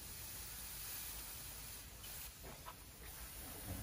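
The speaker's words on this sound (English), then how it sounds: "And now I'm going to change the size of the spray." A spray gun sprays glaze onto white clay pottery in a pottery studio, giving a continuous, loud, even airy hiss close up with a slight change in texture toward the end.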